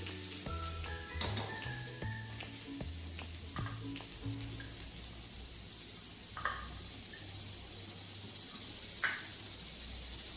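Onion sautés in a hot pan with oil for sweet corn bhaji, a steady soft sizzle with a few sharp clinks of a spoon against the pan, alongside faint background music.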